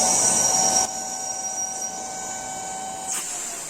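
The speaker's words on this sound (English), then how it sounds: "Apply some vacuum. Adjust the bag and" Vacuum pump drawing down a bag over a glass-fibre DLG glider wing layup, a steady mechanical hum with a whine that drops in level after a second and rises again near the end, close and continuous with no voices.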